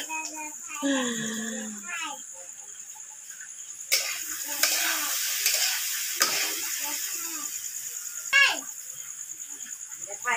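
Stirring and frying over a clay chula (wood-fired earthen stove) at a relative's home, with a steady sizzle and scraping of a utensil in the pan; voices talk over the cooking at times.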